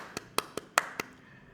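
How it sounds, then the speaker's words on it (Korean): Five quick, crisp hand claps in a loose rhythm, close and fairly quiet, each one fading fast into a still room with no one speaking. "박수!"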